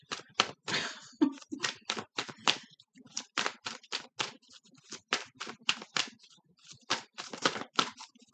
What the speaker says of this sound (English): A few more shuffles.